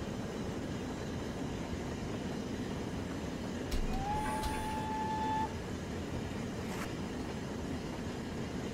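A GWR Collett 4073 Castle steam locomotive running in a train simulator, with a steady rolling rumble of wheels throughout, a clear whistle toot midway and brief metallic clanks, no talk.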